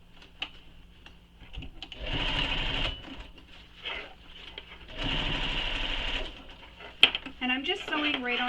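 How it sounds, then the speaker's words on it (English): A sewing machine stitches a bag seam, running back over earlier stitches. It whirs steadily in two close bursts of a second or more each, with a person talking quietly between them. "I'm just sewing right on top of those stitches I previously had where I ripped out"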